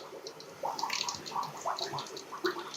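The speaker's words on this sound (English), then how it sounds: "Now you've got the water flowing through." Water gurgles and splashes into a bucket from an underfloor heating loop being flushed, a bubbly, uneven flow with air bursts, close and moderately loud with no talk.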